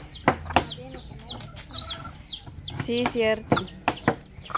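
Hens clucking close by on a rural farm, short choppy calls and squawks in quick irregular bursts mixed with brief conversation between people.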